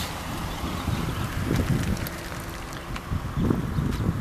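Light easterly wind at a small airfield produces a soft, steady rumble of breeze and microphone buffeting. Brief gusts swell here and there, with no voices or other clear sounds.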